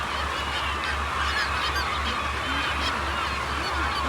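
Geese honk again and again at a salmon hatchery in Valdez, Alaska. A steady low rumble of rushing water or wind runs underneath, and the calls come through faint and slightly distant.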